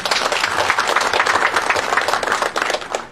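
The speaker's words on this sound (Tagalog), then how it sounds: "Palakpak po tayo." Steady, dense applause fills a hall from an audience of police personnel at a provincial police office command visit, a continuous loud clatter of many hands.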